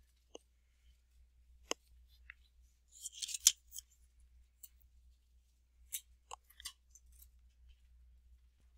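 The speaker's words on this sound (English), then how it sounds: "When you make that cut, make sure it goes right to the corner." Scissors cut paper along a drawn line, giving faint, close snips and crisp clusters of slicing, scattered unevenly over several seconds with no speech.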